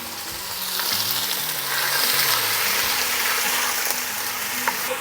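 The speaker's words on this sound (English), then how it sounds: "go ahead and put some olive oil into my pan, and it's smoking hot" Chicken frying in smoking-hot olive oil in a Dutch oven, a steady loud sizzle and crackle over high heat, continuous and close, with a low hum beneath and no talk.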